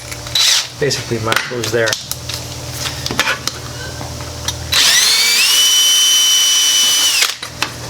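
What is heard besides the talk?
power drill drilling through a Toyota Tacoma panel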